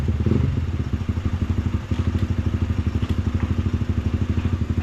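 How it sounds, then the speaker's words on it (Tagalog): A Honda CB150X motorcycle engine runs on a test drive with a steady, even low putter and rhythmic pulsing exhaust, close and consistent throughout, with a brief dip partway. "test drive pala ni tropa yung motor para ma-check din kung okay yung takbuhan nito"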